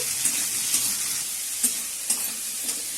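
Onions fry loudly in hot oil and ghee for bisibele bath, a dense continuous sizzle broken by several stirring scrapes spaced through it.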